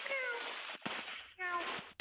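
A person imitates a cat with two drawn-out nasal meows in a row, played from a pilots' radio recording over a band-limited channel with brief clicks between them.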